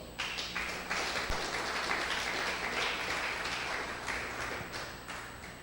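A church congregation applauds during a sermon, producing dense, sustained clapping that rises quickly and holds steady before tapering slightly near the end.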